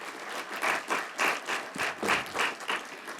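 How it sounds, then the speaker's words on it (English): A crowd applauding at a faculty convocation, steady clapping in rolling waves, fairly close and sustained across the whole stretch. "a round of applause for this incredible team"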